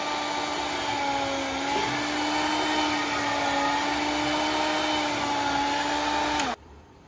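A deli meat slicer cuts thin meat for a Philly cheesesteak with a steady motor whine and hum. It runs close and constant, then cuts off abruptly near the end.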